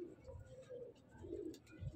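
Champion pure-bloodline pigeons cooing softly and close by, with low, rolling coos repeating over a faint background hum.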